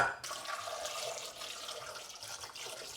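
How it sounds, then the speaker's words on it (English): Cold water running from a tap into a pot of baby potatoes, a steady close splashing gush with no pause for about three seconds. "So I'm going to cover it with cold water until this is submerged and bring it to a boil."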